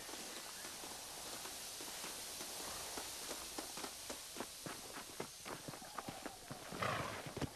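Horse hooves in the video game Red Dead Redemption clip-clop in a steady walking rhythm, growing slightly louder and quicker toward the end, over a faint outdoor background.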